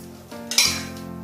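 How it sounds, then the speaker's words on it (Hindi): A spoon knocks and clinks against a bowl or pot as cocoa powder is stirred into a chocolate pudding mixture, with one sharp close clink and a brief scraping stir. "बिल्कुल उसी तरह कोको पाउडर साथ में मिला के चॉकलेट पुडिंग तैयार करेंगे।"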